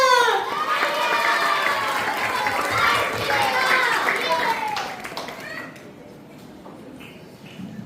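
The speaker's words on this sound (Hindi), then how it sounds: "सर की तरफ से सबको प्राइज मिलेगा, तालियां।" Clapping and cheering from a crowd with children's voices at a Jain religious gathering, loud and busy for about five seconds before fading to quieter murmur and voices.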